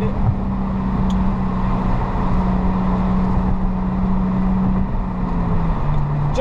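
Infiniti G35 cruising in fourth gear in rush-hour traffic, a steady low engine drone with road rumble heard from inside the cabin, constant and moderately loud with no talking.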